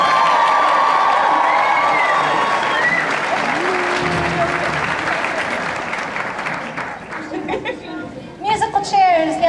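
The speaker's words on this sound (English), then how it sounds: "let's give them another round of applause" A large convention audience at an anime panel applauds and cheers cosplayers dressed as Sailor Guardians: dense sustained clapping with whoops and shouts that fades over several seconds into scattered chatter and voices.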